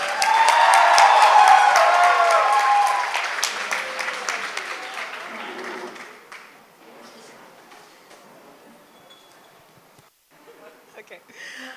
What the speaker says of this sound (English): Everyone, please give a warm round of applause as we welcome above